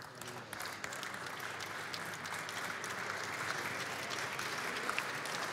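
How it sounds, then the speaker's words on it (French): Audience applause at a pétanque doubles semi-final between the Dreux and Evreux teams: steady, sustained clapping from a moderate-sized crowd, fairly distant and even throughout, with no talking. "Alors vous entendez les applaudissements du public, c'est pour féliciter l'équipe"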